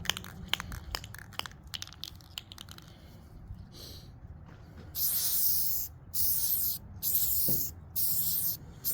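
A spray can of rust treatment hisses in three long bursts onto a vehicle, loud and close, after several seconds of scattered clicks and handling noise.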